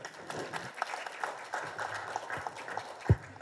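An audience at a regional policy forum panel discussion applauds to welcome a panelist, a brief spell of scattered clapping with one sharp knock near the end.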